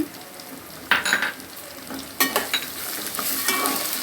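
Green chilies and chopped onions hit hot oil with garlic, cumin, mustard seeds and split moong dal, sizzling steadily close by while a spoon scrapes and stirs the pan in short clattering strokes.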